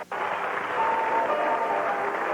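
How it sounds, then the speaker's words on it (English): A large crowd applauds steadily at the 1982 U.S. Gymnastics Championships women's all-around, a continuous wash of clapping heard from a distance in an arena. "You hear the applause there and the music."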